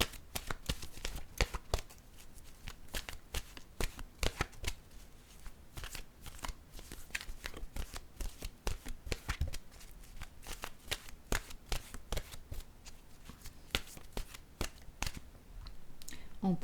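Oracle cards riffled and shuffled by hand in a steady run of crisp, papery flutters and snaps, close and fairly quiet, going on without pause and with no talking.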